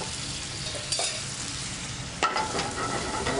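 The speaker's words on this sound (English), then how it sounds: "Warm that up, and what I'm adding to that now is my risotto." Arborio-style risotto rice tipped into warm homemade saffron vegetable stock in a restaurant kitchen, with a steady low simmer and soft stirring, two brief scraping clatters of spoon against pan, no talking.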